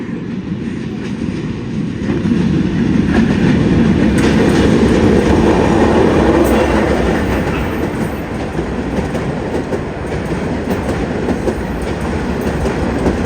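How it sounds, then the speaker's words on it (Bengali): A train passes nearby, a steady loud rumble with rhythmic clickety-clack of wheels on rails that swells and lingers for several seconds. "এখানে একটু পরপরই ট্রেন আসে"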